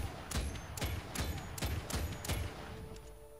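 Semi-automatic Basilisk gun in Fortnite Save the World firing six evenly spaced heavy shots, each a loud booming crack with a short tail, then a quieter pause.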